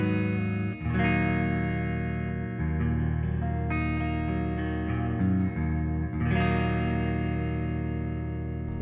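A Solar AB4.6W electric guitar plays a clean tone with full low end and bright sustained chords, with some effects-unit shimmer and reverb. The chords ring steadily and alone, changing every couple of seconds.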